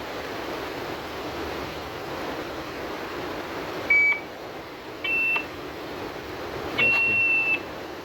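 A Baofeng UV-5R Mini handheld radio gives three short electronic beeps, each brief and clear over a steady hiss of background noise.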